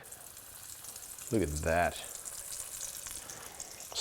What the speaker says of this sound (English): Then we're gonna start frying these glorious things off.